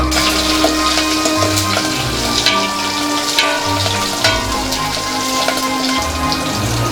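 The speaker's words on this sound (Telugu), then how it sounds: "అలాగే కట్ చేసుకున్న మిర్చి, అలాగే కరివేపాకు రెమ్మలు యాడ్ చేసుకోవాలి. ఇవి కాస్త ఫ్రై అవ్వనివ్వాలి." Chopped chillies and curry leaves fry in hot oil for tomato rasam, a loud, steady crackling sizzle with scattered pops throughout.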